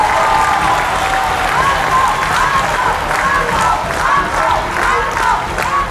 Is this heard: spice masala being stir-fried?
no